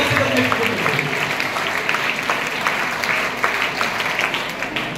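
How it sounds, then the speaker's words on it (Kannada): An audience of children at an educational talk claps loudly and continuously, a dense, even patter of many hands close by, with faint voices mixed in. "ಜೋರಾಗಿ ಚಪ್ಪಾಳೆ."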